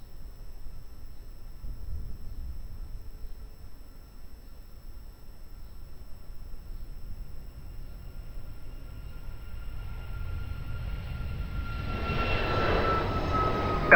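A fixed-wing airliner approaches runway 02 at Lisbon Airport, its low engine rumble steady and distant at first, then swelling into a louder, broader roar near the end.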